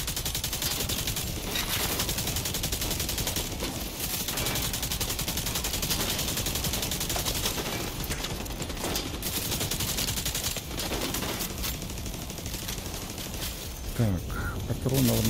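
A machine gun fires in Tom Clancy's The Division 2, sustained rapid bursts that continue almost without pause over nearly fifteen seconds, loud and dense, with someone talking over the shooting and a brief break near the end.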